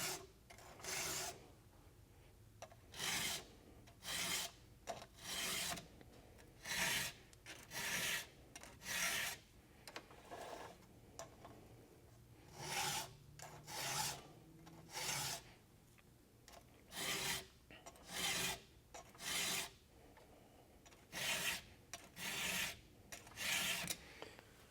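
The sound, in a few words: hand filing a chainsaw chain with a file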